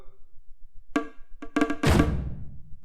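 Quick drum fill of several sharp hits building into a crashing cymbal that rings out, over a steady low kick pattern in an Afrobeat production.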